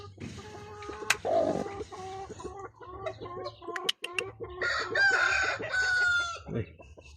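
Spangled roosters crow loudly nearby, overlapping long calls amid hens clucking, with a short sharp break in the middle before another crow.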